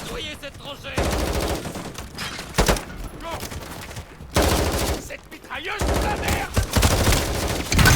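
Machine gun fire in the video game Modern Warfare: loud, rapid bursts of automatic gunfire separated by short pauses, firing close and dominating the mix.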